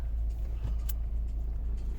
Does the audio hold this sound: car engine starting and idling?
yes